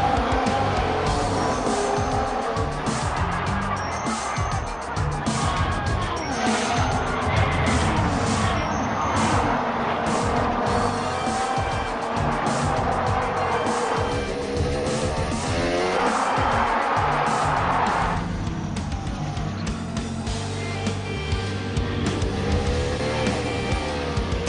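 Formula 1 race cars run on track at the 2022 British Grand Prix, giving a dense, steady roar of engines that swells and fades as cars pass, with crowd noise mixed in.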